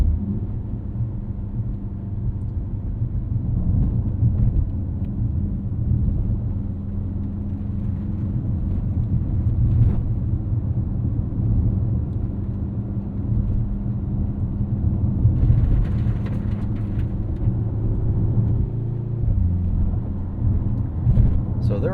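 A 2025 Mercedes-AMG GLC 63 S E Performance in soft individual mode rolls over rough road with raised expansion joints, giving a steady low cabin rumble with occasional thumps over the surface.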